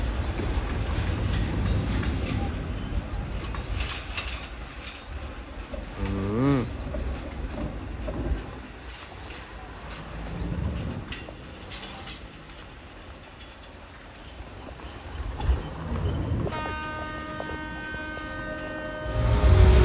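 A freight train rolls past in Jamaica, a steady rumble and rail clatter lasting throughout, with a brief tonal squeal or horn-like burst midway and a harmonic whine near the end.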